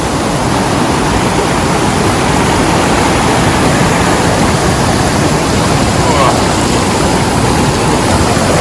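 A vehicle fords a slippery creek crossing in the Victorian High Country near Horseyard Flat, a loud, constant rush of splashing water and road noise that fills the scene without a break.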